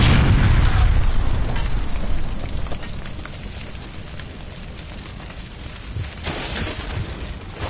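A gas line by a stove blowing up in LA Noire, a loud booming blast at the start that rolls off into a long rumbling decay with scattered debris and crackling, then a second sharp burst near the end.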